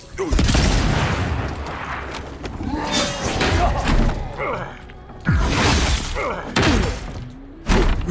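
Gunfire in the video game Avowed: several heavy shots and impacts with thuds and crashing, coming in bursts separated by short pauses, loud and close.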